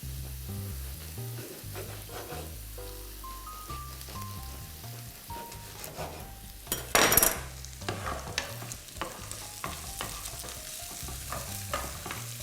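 Food fries in a pan for an Austrian dish, a constant crackling sizzle with stirring taps and scrapes, a brief louder burst midway, and music playing underneath.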